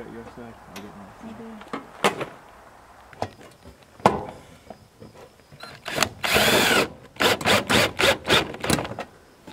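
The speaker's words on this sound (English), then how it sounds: "real wood sidings, you can just screw to it anywhere" A power drill drives screws into real wood siding, whirring in short, close bursts that grow frequent and loud in the latter half, with talk and knocks in between.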